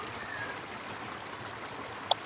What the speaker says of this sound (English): As you listen to the water